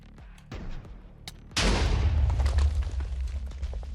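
Raze grenade explosion in a Valocraft Minecraft game: a few faint pops and clicks, then a sudden loud booming blast with a deep rumbling tail that keeps crackling and churning for seconds afterward.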